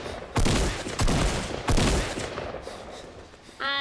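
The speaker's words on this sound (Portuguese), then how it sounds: "eu mandei um tiro no gajo" Bursts of Fortnite gunfire ring out loud and close, three heavy volleys spaced about a second apart, then fading, with a brief sharper burst at the end; no one speaks.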